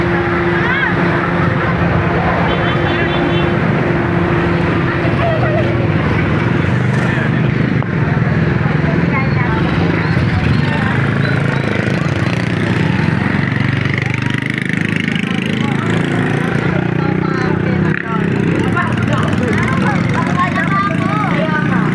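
Motorcycle engines from a festival parade at the Bulihan Festival drone and rev continuously, with crowd noise and voices mixed in throughout.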